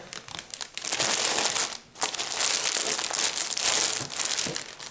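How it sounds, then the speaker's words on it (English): Plastic packaging from a cross-stitch kit with a thimble and supplies is crinkled close up, a steady crackling rustle that pauses briefly before carrying on. "let me crinkle these back in"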